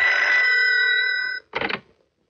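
A telephone bell rings loudly for about a second and a half with bright steady tones, then a short burst of voice-like sound follows before silence, at home in a Hindi crime drama.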